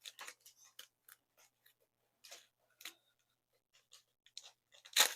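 Unboxing a Temu mystery box: a string of short, faint crinkles, clicks and scratches of packaging being handled and torn, coming in bursts with pauses and ending in a sharper, louder rustle.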